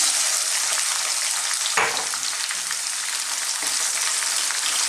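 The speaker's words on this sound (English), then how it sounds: "Next up, I'm going to pop in some onions. I've got some red onions just there." Red onions fry in a pan over a medium-to-high heat for a chicken and chickpea curry, giving a steady, loud sizzle throughout with a brief clatter of stirring near the start.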